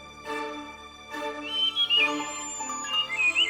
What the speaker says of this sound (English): Pigeons and robins, thrushes and wrens join the dawn chorus, so let's listen to them.